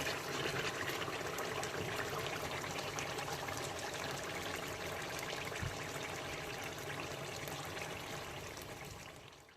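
Water fills a cooking pan for boiling rice, a steady, continuous rushing stream that stays even for nearly ten seconds and fades slightly at the end, with no voices.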